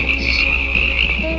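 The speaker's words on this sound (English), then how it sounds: "the quiet stillness of the night was broken only by the sound of crickets" Cartoon night-time crickets chirping in a quiet suburb, a steady high-pitched trill holding at an even level throughout, with a faint low hum underneath.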